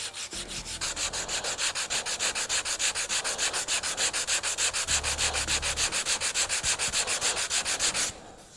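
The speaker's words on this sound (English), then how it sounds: "I'm going to take some 120, and I'm just going to lightly sand this" Cured Timbermate wood filler being lightly hand sanded with 120-grit sandpaper, a steady run of rhythmic rasping strokes, close and alone, stopping abruptly at the end.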